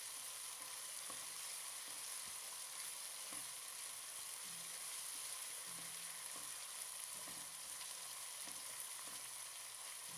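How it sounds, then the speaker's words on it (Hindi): Crushed ginger and onions sizzle steadily in hot oil for a chicken pulao, a dense continuous frying hiss with occasional faint stirring clinks underneath, close and fairly loud throughout. "सिर्फ अदरक कुटी हुई ऐड करेंगे और इसको भी प्याज के साथ फ्राई कर लेंगे"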